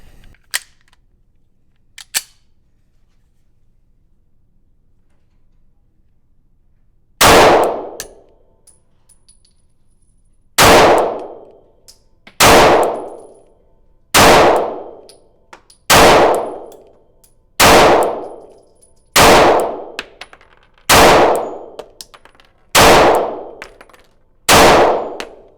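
Springfield Hellcat OSP pistol shots ringing off steel targets, nine sharp loud cracks with metallic clangs, spaced evenly about a second and a half apart after a quiet stretch, first fired on iron sights then with the optic.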